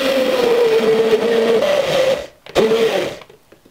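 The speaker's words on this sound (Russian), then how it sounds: "И блендером все хорошенько перемешиваю." A blender whirs steadily and loudly mixing tomato pizza sauce, briefly stops, restarts for a short burst, then winds down.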